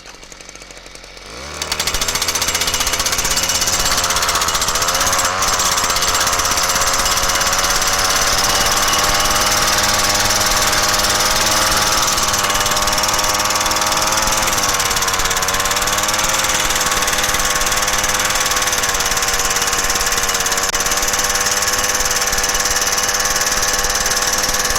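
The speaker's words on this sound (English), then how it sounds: "let's take a walk over here and see how this thing does driving into asphalt" A Thor gas-powered tent stake driver hammers into asphalt, starting up after a brief quiet moment and then pounding loud and continuously with a rapid jackhammer-like rattle over an engine drone.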